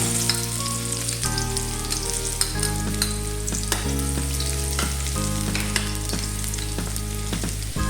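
Garlic frying in cooking oil in a home kitchen, a steady bright sizzle that runs the whole time over a loud, constant background hum, with no talking.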